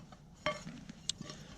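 Pots and pans are fitted together in a kitchen, with a big pot taking a smaller pan: a couple of sharp metallic clanks and a few lighter knocks, close by.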